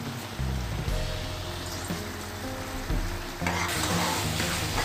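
Masala macaroni pasta stirred in a hot pan with lemon juice, continuous sizzling with repeated scraping and stirring strokes, loud and close, no talking.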